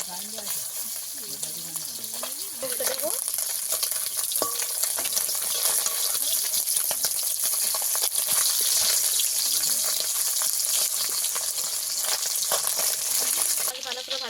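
Khalse fish frying in hot oil, a steady dense sizzle that holds loud and close throughout, with a few faint clinks and stirs near the start.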